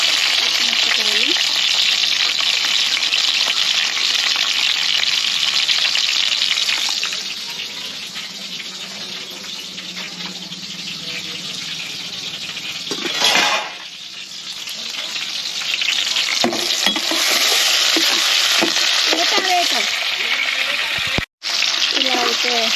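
Onions and green chillies fry in a pan, producing a loud continuous sizzle that dips briefly midway before resuming, with intermittent scraping and a sharp knock near the end.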